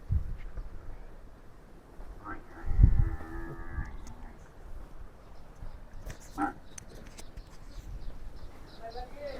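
Calves moo on a farm, giving one clear, drawn-out low call in the middle, while fainter animal noises and background voices fill the rest of the scene.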